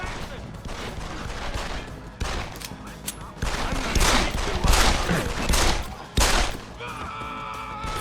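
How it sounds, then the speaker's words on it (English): Rapid bursts of gunfire from a Deus Ex: Human Revolution firefight, loud and continuous with volleys, impacts and game effects layered over one another. "Oh, fucking gunshot!"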